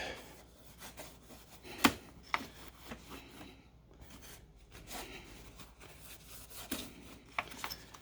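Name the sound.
wiping a Harley fork part clean with a rag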